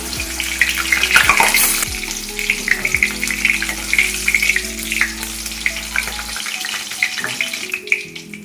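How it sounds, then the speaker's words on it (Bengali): Pieces of marinated chicken fry in hot oil, one batch after another, for a dry chili chicken starter. The loud, steady sizzle runs throughout with a few splashy bursts and clinks, and no talk. "এবার আমি ম্যারিনেট করা চিকেনগুলো এক এক করে ভেজে নেব"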